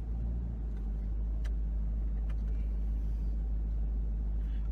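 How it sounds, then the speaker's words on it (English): Nissan Patrol V8 or Toyota Land Cruiser V8 4x4 SUV creeping along in four-wheel low with crawl control set to speed 2, giving a steady low engine rumble throughout with a few faint clicks and no talking. "All you have to do now is let go of the brake. I just keep doing left and right, and the car will just get itself out on its own."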